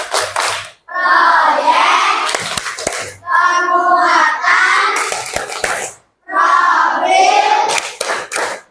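A classroom of children does the rhythmic P5 clap chant, sharp hand claps in patterned bursts mixed with loud children's voices chanting together, in three repeated phrases with short pauses between.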